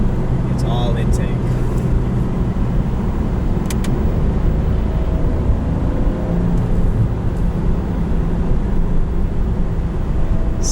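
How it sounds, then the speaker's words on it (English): A 2015 Porsche 911 Carrera 4S engine sends out a steady, throaty intake drone while driving, a continuous loud low hum heard from inside the cabin with road noise underneath. "it's a different sound because it's more intake than anything"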